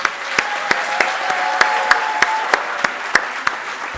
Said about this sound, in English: Please have a round of applause for yourself with me.